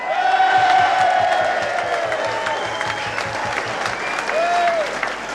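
A crowd at the 1984 Essendon Football Club premiership celebrations gives the club president a loud, rousing burst of applause, with cheers and whoops rising over the clapping and a single shout near the end.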